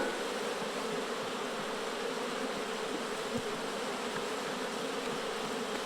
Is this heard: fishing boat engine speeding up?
no